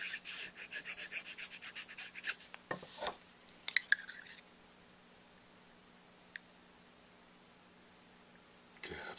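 A file rasps rhythmically against the tip of a cane reed being refaced, a quick series of close scraping strokes that stop after a couple of seconds, followed by a few light clicks and handling noises and then near silence.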